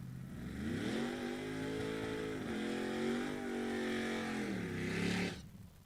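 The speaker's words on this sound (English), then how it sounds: "This tan Mustang coming up here did a half-track wheelie yesterday." A tan Mustang makes a drag racing pass at a drag strip, its engine roaring loud and close with rising, shifting pitch through the gears for several seconds before cutting off abruptly.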